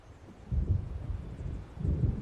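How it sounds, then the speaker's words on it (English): Low, distant rumble of thunder from an approaching storm in the Alan Wake video game, rolling in two swells over a couple of seconds beneath a steady windy background, with no voices. "It seems there's a storm coming."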